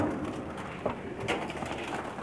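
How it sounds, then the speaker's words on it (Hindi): Pigeons on a rooftop in Mecca give soft, close cooing and wing flutters over steady background noise, with no talking. "ये उनके परवाज़ी कबूतर हैं।"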